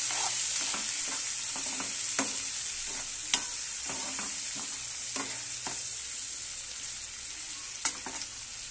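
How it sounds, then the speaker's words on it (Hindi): Onion, peas and carrots cook in oil with a continuous gentle sizzle, punctuated by irregular spoon clicks and scrapes against the pan while stirring, close and steady with no voices. "कांदा, बटाना, गाजर, इसे थोड़ा तेल में पकने देंगे"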